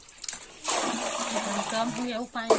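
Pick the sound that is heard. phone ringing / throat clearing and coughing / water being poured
water being poured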